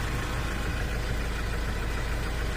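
Hyundai Porter 2 truck with an enclosed box body and power liftgate, its engine idling in a steady, quiet low rumble that holds evenly throughout, close by and with no talk.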